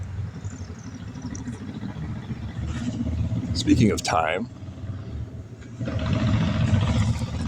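A motorcycle engine roars past close by, rising and falling over steady traffic noise, with someone talking briefly before it.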